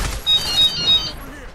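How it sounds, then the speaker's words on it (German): A mobile phone rings with three short, bright electronic tones in quick, even succession, heard close over a busy background of game noise. "Das ist mein Telefon."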